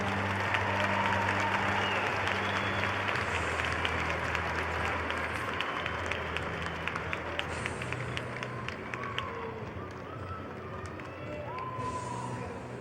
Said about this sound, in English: wrestling fans, give these guys a great round of applause